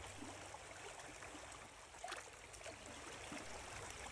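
Trap Hole Brook, a small brook in the Neponset watershed where a dam was removed, flows with a faint, steady wash of water that keeps up unbroken throughout.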